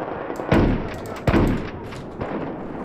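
Remington 870 pump shotgun firing in the Battlefield 4 game, three heavy booming blasts spaced about a second apart, each with a short decaying tail, loud and close with no talking.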